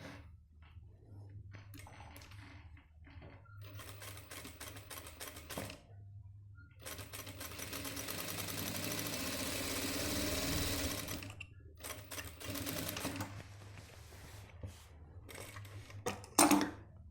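Sewing machine stitching a strip onto the back pocket of gents' trousers, running in several bursts of rapid rattling with pauses between, the longest run in the middle, close and fairly quiet, no talk.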